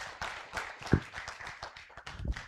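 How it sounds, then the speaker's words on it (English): An audience at a crop protection symposium in Uganda applauds a speaker, a steady patter of many hands clapping, moderately distant and fairly soft. "Please, another round of applause for Stella."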